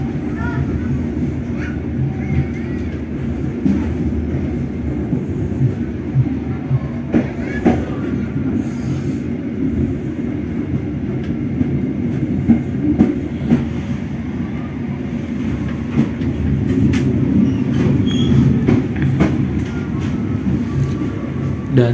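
Train wheels rumble and click steadily over an English (double slip) railway switch on the approach to Jakarta Kota station, a continuous rolling noise with rhythmic clatter heard from on board, with faint voices in the background.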